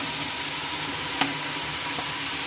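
Dal being added to fried, well-cooked spice masala in a pan, a steady, close sizzle and frying hiss with one soft knock of the utensil partway through.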